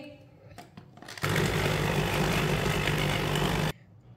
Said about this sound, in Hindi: ग्राइंड कर लिया मैंने चिकन को।